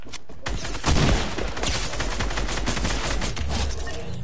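Rapid gunfire from a Fortnite match, dense bursts of shots firing almost continuously, loud and close, with a heavier blast near the start and no talking over it.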